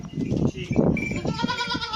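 Beetal goats bleating on a goat farm, several overlapping close calls in quick succession over a steady background of the herd, with no talk.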